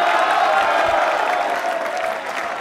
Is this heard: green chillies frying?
no